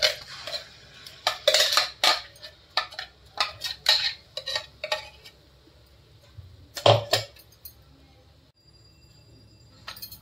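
Paneer and methi masala being stirred in a pan, with a metal spoon clinking and scraping against the pan in a series of close, irregular bursts, a quieter gap, then another loud cluster near the end.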